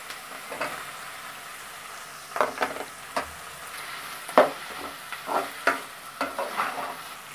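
Potato pieces fry with softened onions in a pan for a potato kurma, giving a soft steady sizzle broken by irregular scraping knocks of stirring, close and moderately loud.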